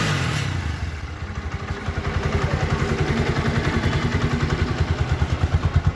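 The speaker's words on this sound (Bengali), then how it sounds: "এবার আপনাদের একটু বাইকের সাউন্ডটা একটু দেখাই দিই।" An Apache RTR 160 4V motorcycle engine runs close by, settling from a rougher start into an even, rapid thumping idle pulse that holds loud and steady throughout.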